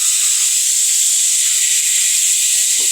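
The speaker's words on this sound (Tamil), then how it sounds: "இப்போ இது கூட 1 கப்பு தண்ணி சேர்த்து விட்டுடலாம்" A cup of water added to sizzling Bihari-style chicken curry masala in a hot pan, giving a loud, steady hiss and sizzle that continues without a break.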